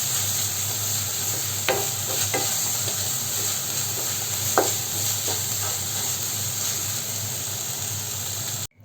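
A melting jaggery mixture is stirred in a pan over a gas flame for kozhukkatta filling. Low steady bubbling and sizzling run throughout, with occasional soft scrapes and knocks of the spoon, close up and without voices.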